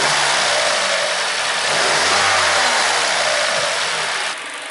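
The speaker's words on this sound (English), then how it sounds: "hopefully you can kind of hear the little hissing noise." A Vauxhall VXR engine idles steadily and loud up close with a faint hiss in the background, the rumble dropping slightly at the end.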